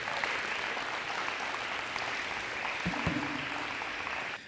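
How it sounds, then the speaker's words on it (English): Audience applause at a high school fine arts signing day, a dense steady wash of many hands clapping throughout, fading at the very end. "So big round of applause, please, for Tristan Collins."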